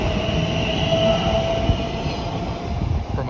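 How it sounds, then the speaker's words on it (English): A Class 345 train, unit 345011, departs Acton Main Line bound for Heathrow, a steady close rumble of wheels and traction with a faint high whine running throughout. "now departing is 345011 en route to Heathrow Terminal"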